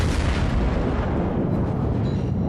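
Heavy battleship guns firing in World of Warships as a New Mexico trades shots near a Fuso, a dense, sustained rumble of booming salvos filling the whole stretch, loud and close with no voices.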